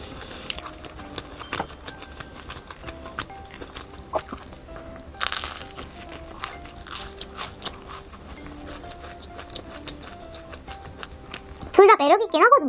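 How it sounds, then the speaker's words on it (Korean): A crispy glazed dessert bitten into, its crackly coated surface breaking with crunches that cluster near the end over a busy, low background. "이렇게 하니까 약간 더 바삭바삭하면서 먹을 때 살짝 이 표면이 깨지는 게 느껴지거든요."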